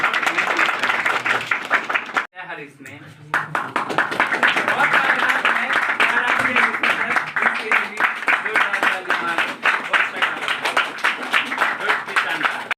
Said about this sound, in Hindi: एक बार और तालियां बजाओ इसके लिए।